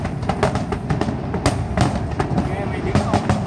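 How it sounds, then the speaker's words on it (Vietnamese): Fireworks going off outdoors, a rapid irregular string of sharp cracks and pops over a rumbling background, loud and fairly close, with people talking throughout. "Thấy trái pháo văng lên không Đức? Nhìn dưới á, thấy trái pháo văng lên luôn."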